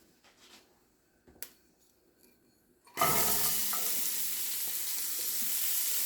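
Onions drop into a hot pan still greasy from browned sausage for a sausage, potato and kale soup. After a few quiet clinks, a sudden loud sizzle bursts out and holds steady.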